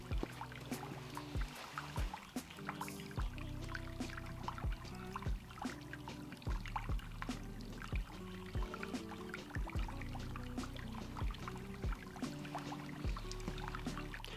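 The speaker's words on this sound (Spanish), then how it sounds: "Vamos a llenar la botella." Water pours and trickles steadily into a bottle through a Sawyer mini water filter, with rhythmic knocking and sloshing, quiet and close.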